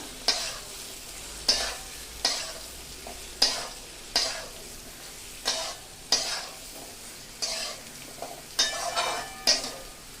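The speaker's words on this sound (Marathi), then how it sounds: "हे हलवून घ्यायचं." Eggplant sabji with grated ginger and garlic being stirred in a pan, with repeated scraping strokes about once a second over a low sizzle, close and alone with no talking.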